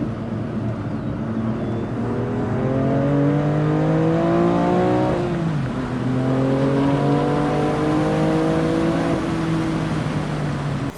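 BMW M2 driven on a race track with traction control off; a loud, steady engine note heard from inside the car climbs through the gears, drops briefly at a shift, then climbs again.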